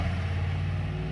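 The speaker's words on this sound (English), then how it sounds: "Oh, another loud truck." A loud truck rumbles past close by, its deep low engine drone steady and heavy throughout with broad road noise above, no speech over it.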